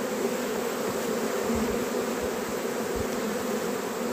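Honey bees buzz steadily and densely around a beehive in an apiary at evening, a continuous close drone with no voices over it.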